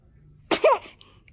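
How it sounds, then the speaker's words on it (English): A baby sneezes once, a short sharp burst in a quiet room, with a faint catch of breath after it. "Ay, ay, ay, esos estornudos."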